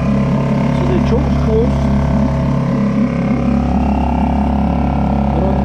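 A Suzuki 2.5 HP four-stroke outboard motor idles steadily up close, out of gear, a constant low mechanical drone with a slight rattle, unchanging throughout.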